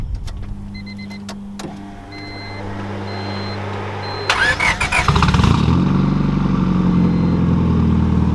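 A turbocharged 2000 Honda Civic EM1 cranks and fires up inside the car after a few electronic chimes and clicks, then settles into a loud, steady idle close by.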